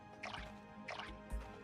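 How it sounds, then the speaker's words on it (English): A watering can in Core Keeper pours onto plants, giving three short splashing, dripping bursts at a steady pace, soft and set over quiet background music. "actually what I'm going to do is I'll water one at the bottom here and not the others"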